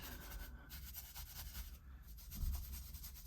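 A stiff bristle brush scrubs leather cleaner into an interior surface with quiet, rhythmic rubbing and scratching strokes, close up and alone.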